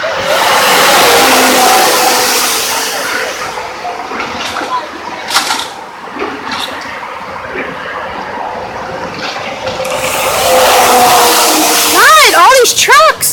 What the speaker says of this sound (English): God, all these trucks.